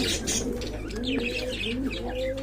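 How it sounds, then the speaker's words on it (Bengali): Homa pigeons at a market stall coo and chirp in overlapping calls, several birds close by, with short bright tweets over a low humming background. "আর এখানে রয়েছে আরেক জোড়া হোমা কবুতর"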